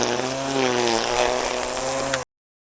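A Makita chainsaw cuts steadily among fruit trees, its motor droning loud and close at a constant pitch for about two seconds before stopping abruptly.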